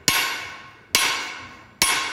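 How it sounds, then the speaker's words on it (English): Three sharp metallic strikes of a hammer on sheet metal being stretched, evenly spaced about a second apart, each ringing out loud and close before decaying, with no talk. "we can pick the hammer like that, then incline the hammer slightly downwards to taper the force application towards the edge"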